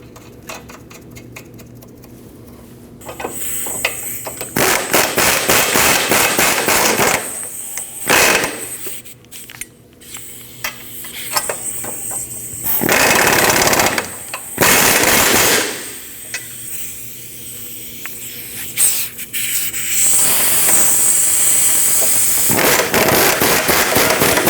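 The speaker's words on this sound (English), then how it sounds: "Install your 2 nuts and tighten them down." Power tool tightening sway bar link nuts on a 2003-2008 Subaru Forester, loud repeated bursts of rapid rattling impact hammering separated by pauses, close and harsh.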